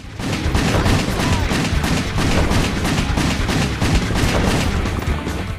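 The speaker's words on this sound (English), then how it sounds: "You can do a whole 180 with the camera and still shoot people." Sustained, dense gunfire from a third-person action shooter WET, continuous rapid shots and booms filling the whole stretch at high loudness with no pauses.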